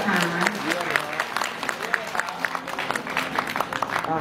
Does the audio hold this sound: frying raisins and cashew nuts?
no